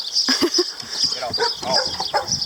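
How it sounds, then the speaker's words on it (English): Two young puppies bark and yap in short, excited bursts close by, with whimpers and scuffling in between and a voice speaking briefly among them. "Benjamin, please control your dogs."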